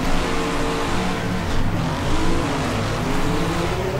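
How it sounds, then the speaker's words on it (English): Car engine in the Next Car Game racing video game, a loud continuous revving drone that holds steady with slight swells in pitch, no talk over it. "Oh yeah, that engine is carrying me along now."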